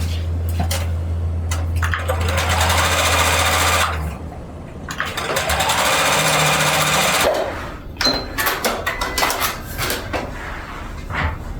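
A sewing machine stitching quilt blocks for a pixel quilt in two steady, close runs of rapid needle chatter, separated by a pause and followed by clicks and fabric handling.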